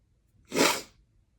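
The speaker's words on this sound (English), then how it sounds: "I'm about to sneeze." A single sharp sneeze bursts out alone against near silence.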